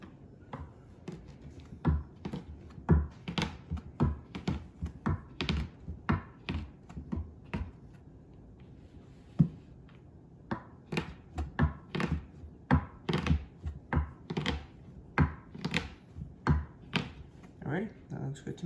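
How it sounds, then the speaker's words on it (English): A knife chopping chocolate on a board for a vegan brownie topping, a long run of close, sharp taps and knocks in bursts with a brief pause in the middle. "I'm gonna be chopping up some chocolate as a topping for the brownie"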